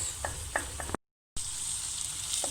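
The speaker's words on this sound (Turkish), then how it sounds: "Tencereye bir orta boy soğan, e, bir diş sarımsak alıyoruz ve az bir yağ ilave edip soteliyoruz." Onion and garlic sauté in a little oil in a pot, a steady hiss of sizzling broken by a few soft stirring clicks, cut by a brief silent gap midway before the frying noise resumes.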